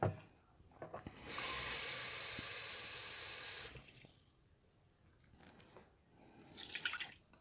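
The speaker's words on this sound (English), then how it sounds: "I'm going to put that water in there first" Water pours into an Instant Pot electric pressure cooker in one steady splashing stream for a couple of seconds, close by, with a few faint drips and clinks before and after.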